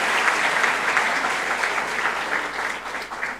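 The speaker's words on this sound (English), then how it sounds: "yes, please applaud." Applause from the audience fills a hall at an institute's programme inauguration and ranking celebration, steady moderate clapping that tapers slightly toward the end.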